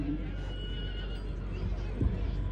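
A horse whinnies in a show ring during a horse competition, a high, quavering neigh near the start over constant crowd noise and talking, with a few hoof thuds later.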